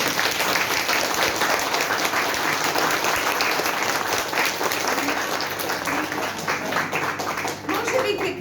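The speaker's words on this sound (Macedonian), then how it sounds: "аплаузот кон дечиња." An audience at a kindergarten end-of-year performance applauds the children, a dense, loud, continuous clapping that fills the room without pause and tapers slightly near the end.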